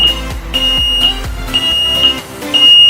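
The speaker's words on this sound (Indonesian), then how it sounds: "alarm on" A loud, high-pitched elevator alarm beeps in sharp repeated pulses, about every half second, with clattering underneath and no speech.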